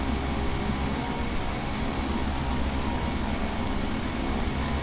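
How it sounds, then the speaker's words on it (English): A jet aircraft on its takeoff roll in the X-Plane flight simulator game makes a steady, loud engine roar that holds constant throughout. "That jet aircraft is on its takeoff roll."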